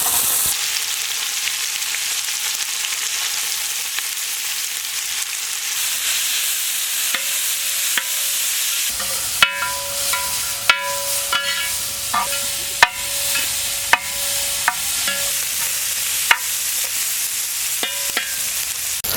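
Sliced onions with ginger and garlic fry in hot oil for kuska rice, a bright steady sizzle that swells partway through, with sharp clinks and scrapes of stirring at intervals.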